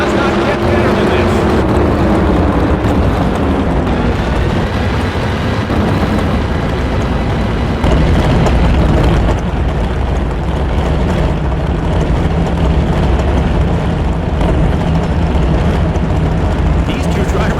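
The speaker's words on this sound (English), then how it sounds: "The roar of the engines firing up" Drag racing car engines roar loudly and continuously at an NHRA championship event at Auto Club Raceway, a dense rumbling wall of sound with an announcer talking over it.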